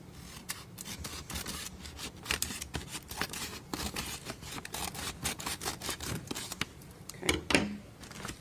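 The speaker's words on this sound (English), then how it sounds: "Just be very careful when you cut the top of the package" Scissors cut straight across the top of a sealed package in a courtroom, a steady run of close, crisp snipping and crinkling for several seconds.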